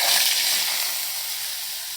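Radish bajji frying in groundnut oil, a steady broad sizzle and hiss that stays even and fairly loud for the whole stretch, with no talking over it.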